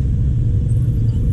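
Steady low rumble of road traffic near Guiguinto on the way to Malolos, where a road is being raised and only one lane is open, a continuous close vehicle drone with no voices.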